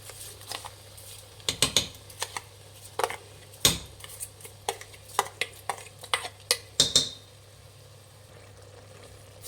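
Washed rice goes into a pan of fried avarekalu (lima beans) for rice bath. A spoon scrapes and clatters against the metal in irregular bursts with some sharp clinks, all close by and with no talking.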